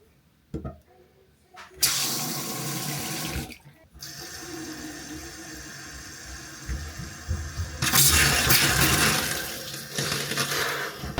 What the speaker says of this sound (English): It's time to turn on the water.